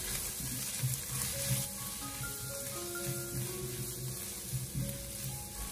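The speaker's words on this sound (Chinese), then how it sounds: "我们再把切好的小料放进来，然后再继续的开小火翻炒几下" Scallions and garlic stir-fried over low heat in a wok, a steady close sizzle and hiss running the whole time with faint scrapes of the spatula.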